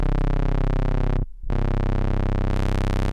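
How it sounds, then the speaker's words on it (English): Yamaha CS70M analog synthesizer playing a bright, buzzy sawtooth tone, loud and sustained, held for over a second, briefly cut, then resumed as a rich held note before stopping abruptly. "So that's the sound of the sawtooth."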